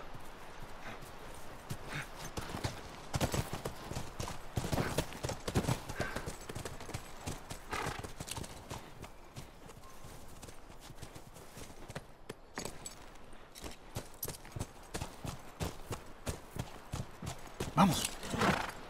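Horses' hooves clip-clop at a steady walking pace in The Last of Us Remastered, a continuous run of hard, moderately near knocks over nearly twenty seconds with no talk.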